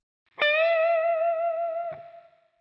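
Single sustained electric guitar note from a solo, struck sharply and held about a second and a half with gentle vibrato, distorted tone with effects, closing with a brief pick or string noise and fading out.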